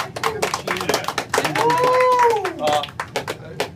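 A small audience at the Bayou Adventure seminar claps for the host, scattered close hand claps mixed with talking voices and a brief whistle-like tone.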